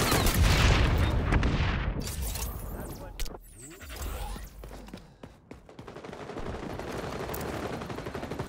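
A grenade explosion in the XDefiant shooter game, a loud booming blast at the start amid rapid gunfire, followed by more scattered shots and combat noise, with voice callouts mixed in.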